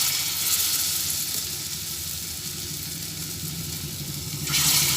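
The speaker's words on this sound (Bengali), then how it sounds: "কড়াইতে তেল দিয়ে দিয়েছি তেল গরমও হয়ে গেছে এক এক করে আলুর পকোড়াগুলো ভেজে নিচ্ছি" Loud, continuous sizzling of potato pakoras frying in hot oil in a kadai, a steady crackling hiss that swells slightly toward the end.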